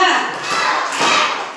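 Schoolchildren at an elementary school Isra Mi'raj gathering clap together in a counted pattern, with two dense group clap bursts over a murmur of voices.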